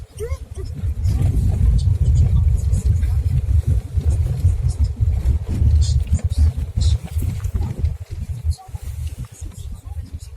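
A car drives toward a pine forest with a low, rumbling engine and road noise, loud and continuous, while people talk throughout.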